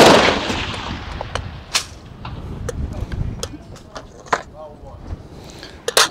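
Rifle shots fired at a 600-yard target on a windy range, several sharp cracks spaced apart over steady wind noise, with a louder pair near the end.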